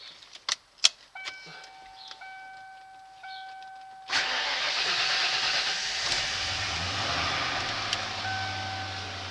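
After a few clicks and chimes, the engine of a 1995 Ford F-150 Eddie Bauer pickup cranks and catches, then settles into a steady idling rumble with a faint tone over it.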